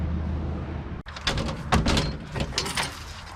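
Garage door at an abandoned farm, heard as a sharp thunk followed by a rattling, scraping slide of the door as it is pushed open, close and fairly loud.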